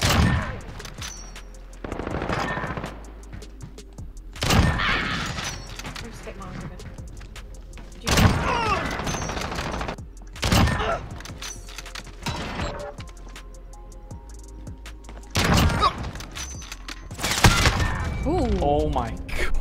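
Loud AX50 sniper rifle shots crack out one at a time in a video game match, roughly a dozen sharp bursts spread irregularly across the stretch, with background game noise and players talking between them.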